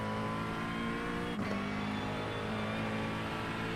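GT3 race car engine in iRacing holds a loud, steady droning note with one quick gear shift partway through, up close and without any talking.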